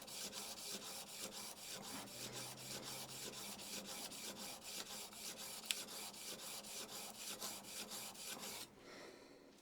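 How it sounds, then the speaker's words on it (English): A plane blade is rubbed back and forth on 120 grit sandpaper in a steady, even rasping rhythm of regular strokes, fairly quiet and close, stopping just before the end. "we're using 120 grit sandpaper here"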